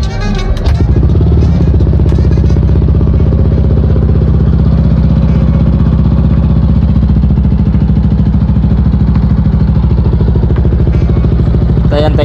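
A rebuilt Yamaha NMAX V2 scooter engine turns over and settles into a steady, loud idle, a close mechanical hum with fine ticking and clatter that continues unbroken throughout.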